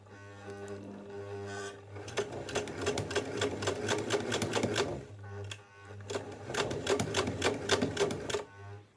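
A sewing machine stitches shirring elastic onto a dress made from a quilt cover, running in two long bursts with a low hum in the short gaps, close and steady.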